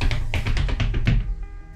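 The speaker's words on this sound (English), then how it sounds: "That's the sound of my feet, by the way." Footsteps on a hard floor inside an apartment, about a dozen quick, close taps in a steady walking rhythm that stop near the end, with no voices.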